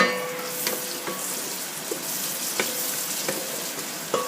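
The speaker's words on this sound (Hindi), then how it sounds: "ये मैं अंदर इसके लहसुन अदरक का जो पेस्ट मैंने बनाया है वो डाल रही हूँ" Garlic and ginger paste fries in a pan with a bright, steady close sizzle, dotted with sharp spitting pops and small spatula ticks every second or so, no speech over it.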